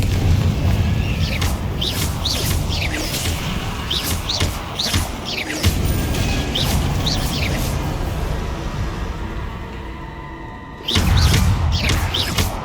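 Repeated Confringo blasting-spell explosions in Hogwarts Legacy, a series of sharp bursts in quick succession amid combat noise, then a pause and another loud blast near the end, with no talking.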